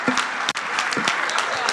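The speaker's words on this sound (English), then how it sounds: "Please, can you give them some more round of applause?" Applause from an audience at a 60th birthday conference: a dense, steady clatter of many hands clapping close and loud, continuing for a couple of seconds with a brief dip.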